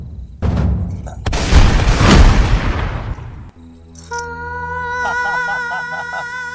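A loud explosion as something is blown up in a staged action scene, a burst of broadband blast lasting about two seconds that decays into a sustained musical score with tones.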